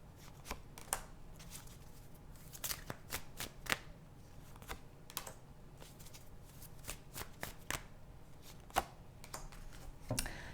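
Tarot cards shuffled by hand up close, a run of soft papery riffles and taps at an uneven pace, quiet and with no talking.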